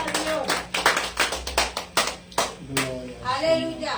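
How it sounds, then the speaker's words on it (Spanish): Clapping from a church congregation comes in a series of sharp, irregular bursts of hand claps, fairly close, with voices heard between them. "Denle una ofrenda de palmas a nuestro Dios"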